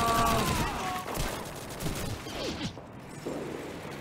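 Dense, continuous gunfire from the video game Call of Duty 2, a rapid fusillade of overlapping shots with mechanical clatter that stays loud throughout and eases slightly toward the end.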